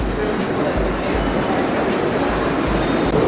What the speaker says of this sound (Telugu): ఒక ట్రైన్ వచ్చేసింది